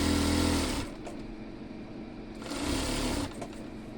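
A sewing machine runs in two bursts while stitching loose, unstretched petticoat fabric, with a quieter whirring pause between them, steady and close.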